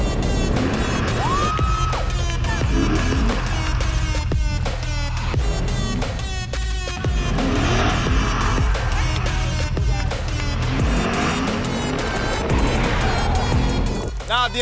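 A Lexus car spinning a full 360 through a turn on a course, with loud continuous engine roar, tire squeal and skidding over the whole stretch, and voices talking over it.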